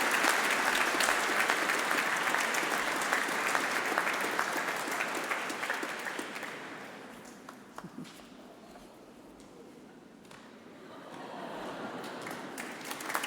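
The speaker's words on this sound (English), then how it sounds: "big round of applause." Audience at a university graduation ceremony applauding: dense, steady clapping that gradually thins to scattered claps, then builds again near the end.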